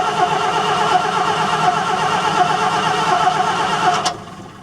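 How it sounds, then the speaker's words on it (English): The diesel engine of an old Volvo F10 truck that has sat unused for 25 years, cranking over in a loud, steady, rhythmic churn close by for about four seconds before cutting off. "I'm going to turn the motor over."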